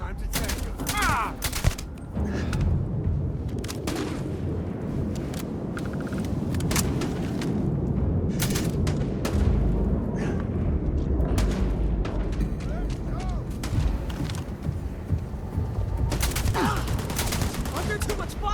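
Sustained gunfire in the Starfield video game: rapid bursts and booming shots rattle continuously at close range, with someone shouting between the volleys.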